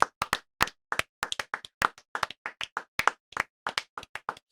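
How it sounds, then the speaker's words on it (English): Small audience applauding at a live podcast taping: quick, uneven bursts of hand claps, fairly close and moderately loud, with no talk over them. "Let's give them a round of applause."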